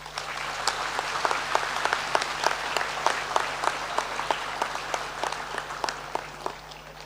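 A school welcome assembly applauding a new religious education teacher: steady clapping from a crowd of students and staff, moderately distant, with individual sharp claps standing out over the continuous patter.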